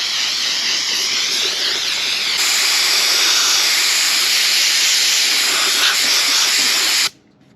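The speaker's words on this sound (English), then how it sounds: "A little bit of Wally World's finest parts cleaner." Aerosol parts cleaner sprays in a long, steady, loud hissing burst onto a cracked cast iron exhaust manifold from a Jeep, lasting about seven seconds before cutting off abruptly.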